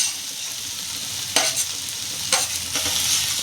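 Tomato, ginger, garlic and chili sautéing for paneer bhurji, a steady close sizzle with two brief bursts of louder spatter and stirring scrapes.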